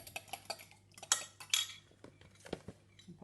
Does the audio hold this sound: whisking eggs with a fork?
yes